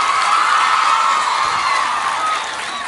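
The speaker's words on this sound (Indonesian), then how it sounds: "Tepuk tangan, mana Al-Fityan?" Students at an Islamic high school religious gathering cheer and shout in a loud, sustained crowd roar that holds steady for about three seconds with no clear clapping.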